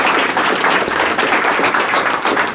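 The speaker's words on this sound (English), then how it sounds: "Let's give yourselves a round of applause." Audience applause fills the room, a dense, steady wash of many hands clapping at full loudness throughout with no break.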